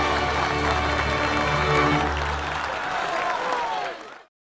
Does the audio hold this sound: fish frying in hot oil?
no